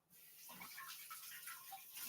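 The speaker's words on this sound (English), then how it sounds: "You rinse my hands here." Water running from a kitchen sink tap while hands are rinsed during cooking, a steady faint splashing flow with light irregular spatter throughout.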